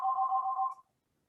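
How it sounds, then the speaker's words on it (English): A phone ringing nearby gives one sustained electronic ringtone that stops abruptly partway through, with no talk over it. "there's my phone ringing there"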